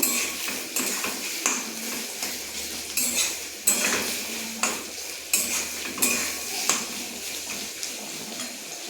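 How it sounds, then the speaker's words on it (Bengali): Chopped onions frying in a pan for a home lunch, with a steady sizzle under repeated stirring and scraping strokes and clinks of a utensil against the pan, close and fairly loud. "পেঁয়াজটা ভালো করে ভেজে নিচ্ছি। পেঁয়াজটা আমি লাল লাল করে ভেজে নেব।"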